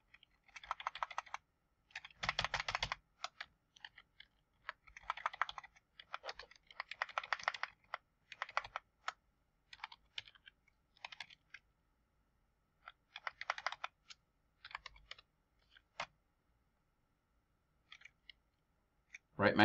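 JavaScript code being typed on a computer keyboard, close and fairly quiet, with bursts of rapid key clicks separated by short pauses and a few single taps, and no talk.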